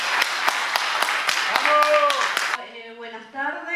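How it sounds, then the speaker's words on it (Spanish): A small audience at an Argentine book presentation claps for the next speaker, rhythmic, fairly close claps for about two and a half seconds that then stop, followed by a voice speaking. "Un aplauso para la compañera que empieza con el uso de la palabra."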